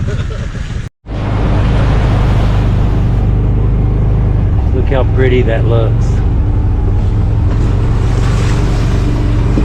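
A vehicle churns through a mud pit on rough back-country ground, producing a loud, sustained roar and wash of splashing with heavy wind buffeting after a brief dropout near the start. A voice speaks partway through.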